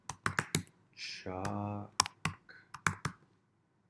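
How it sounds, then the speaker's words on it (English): Fingers type on a computer keyboard in a quiet room, making crisp, close key clicks in short bursts before and after a single spoken word. "and I start typing in"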